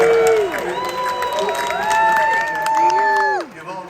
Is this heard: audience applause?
yes